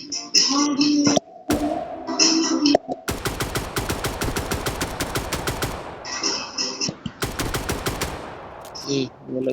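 Rapid automatic gunfire from a video game, several dense bursts of shots in quick succession with short pauses between, loud and close.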